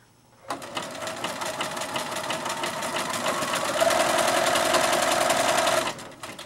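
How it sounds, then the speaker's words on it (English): A sewing machine stitches a large zigzag over dental floss, a steady fast mechanical whirring and clatter running continuously for about five seconds, growing slightly louder before stopping abruptly. "I'm simply going to sew right over that dental floss"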